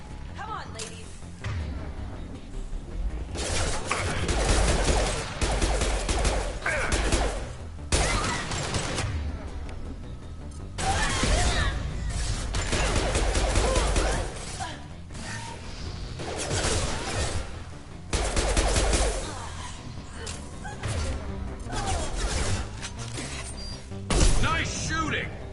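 Repeated bursts of gunfire in Mass Effect 2 combat, loud volleys and thuds recurring in waves across the whole stretch, with voices speaking between and over the shots.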